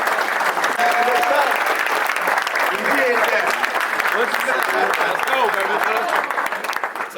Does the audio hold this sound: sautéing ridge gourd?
no